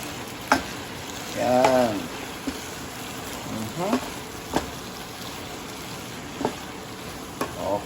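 Eggs being stirred and scraped in a sizzling frying pan, with a steady frying hiss and a few distinct utensil scrapes and taps, under a woman's brief spoken remarks.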